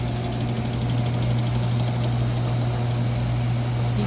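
A wool carding machine runs with a steady, loud mechanical drone, a constant low hum and even vibration throughout, close by with no talking.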